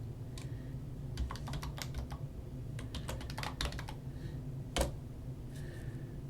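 Keystrokes on a computer keyboard come in quick irregular bursts with short pauses, close and moderately loud over a low steady hum, ending with one sharper clack.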